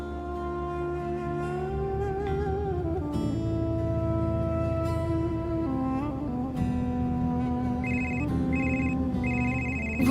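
A phone ringtone plays a melodic tune for an incoming call, loud and continuous, with a repeating higher chime near the end.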